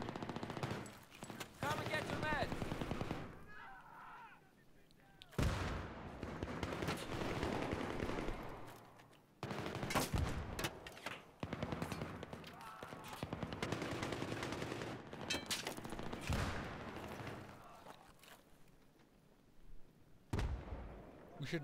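Video game firefight with rapid bursts of automatic gunfire and scattered shots, loud and dense throughout, with players talking over it.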